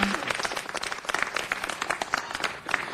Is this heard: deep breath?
no